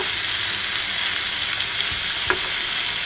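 A winter vegetable bhaji with onion flowers and a little carrot frying in a pan, a dense loud hiss of sizzling oil, close and steady, with one brief spatula knock partway through and no talking.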